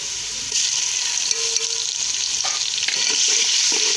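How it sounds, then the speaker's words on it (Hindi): Ground garlic frying with golden brown onions in a pan, a steady close sizzle with light stirring scrapes, no talk. "प्याज गोल्डन ब्राउन हो चुका है, अब इसमें डाल देंगे लहसुन पिसा हुआ"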